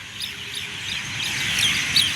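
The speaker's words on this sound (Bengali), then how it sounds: "প্রচুর পরিমাণে আসলে শালিক পাখি এবং কাক রয়েছে, অন্যান্য পাখিও আছে।" Mynas and crows chirp and call faintly at a distance over a steady outdoor hiss in Dhaka, with a couple of sharper calls near the end.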